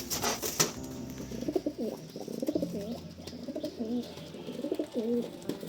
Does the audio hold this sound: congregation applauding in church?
no